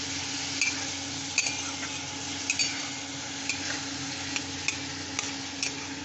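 Prawns fry in a pan with a steady, even sizzle, broken by occasional soft clinks and ticks of stirring, and no one speaking.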